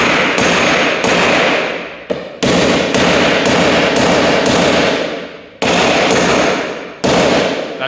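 Sharp, loud hammer taps land one after another, about a dozen in steady rhythm with brief pauses, as soft rivets are knocked flush on Tier One 100/105 series roof rails mounted to a CSS 1.3 rooftop tent.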